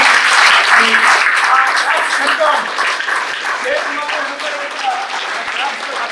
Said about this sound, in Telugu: ఎన్ఆర్ఐ ఏలూరు స్టూడెంట్ పి అనితకు మరి గట్టిగా క్లాప్స్ కొట్టి